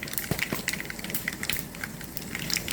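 Mustard seeds dropped into hot oil with fenugreek for a vegetable sambar, giving a continuous close crackle and sizzle with scattered small pops throughout.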